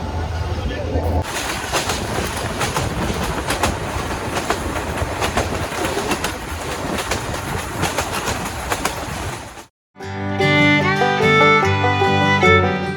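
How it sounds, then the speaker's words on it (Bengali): A crowded Dewanganj commuter train from Dhaka to Jamalpur rumbles along on a foggy winter day, with steady, rhythmic wheel clatter close by, before music takes over near the end. "ঝুলে ঝুলে যাচ্ছি আমরা কমিউটার ট্রেনে"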